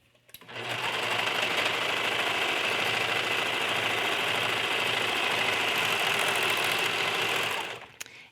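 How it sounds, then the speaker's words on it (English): A sewing machine runs one long continuous straight seam along the inseam of flannel doll pajama pants, steady and close for about seven seconds, starting and stopping cleanly. "we'll sew the whole inseam in one straight seam"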